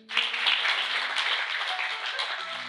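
A church congregation applauds during a sermon, a brief wash of many clapping hands that starts suddenly and stays fairly even, with a faint tonal hum beneath it.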